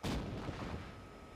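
A huge mortar artillery strike with HE shells in the video game Arma 3 lands as one loud, heavy blast with a deep rumbling tail that fades slowly over about a second.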